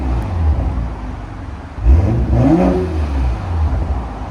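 A BMW M340i with its 3.0L turbo inline-six and exhaust valves open gives a deep idle rumble, then a short rev that swells and falls back, fairly close.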